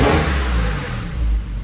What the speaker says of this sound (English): So a little rev for you.